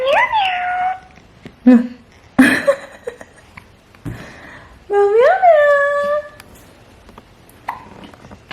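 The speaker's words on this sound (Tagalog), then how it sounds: "Is that Ate Paris' cat?" A cat meows several times up close, the cries rising and falling, separated by quieter gaps with faint rustling.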